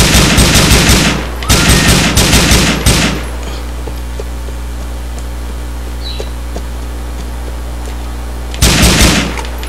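Loud automatic gunfire from GTA 4 online multiplayer, rapid bursts of shots in three clusters at the start, then a pause with a low hum, and another burst at the end.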